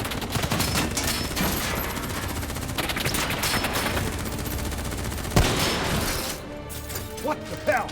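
Gunfire in Call of Duty: Black Ops 3, a sustained burst of rapid automatic shots with heavy impacts and a sharp crash near the end, then the fire thins out into scattered debris.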